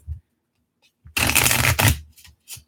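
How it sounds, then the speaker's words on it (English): A tarot card deck is riffle-shuffled close up, giving one dense, crisp rapid flutter of cards lasting under a second, with a few soft handling taps before and after. "See how nice this shuffles, Naya?"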